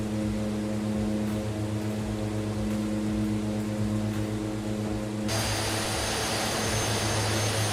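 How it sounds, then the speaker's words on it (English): Engine of a Staggerwing biplane in a flight simulator game, a loud steady droning hum with strong low harmonics that shifts abruptly to a brighter, noisier roar near the end, no voices. "When I get it on autopilot, I will turn those external engine sounds down because it's very, very noisy."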